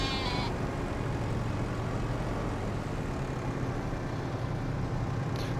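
Sheep in Farming Simulator 25 bleat briefly at the start and again faintly at the end, over a constant droning background hum.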